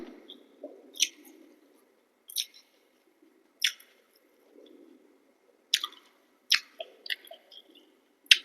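Someone eating cabbage salad up close makes crisp, wet crunching bites in short bursts separated by quiet pauses, about eight distinct chewing clusters.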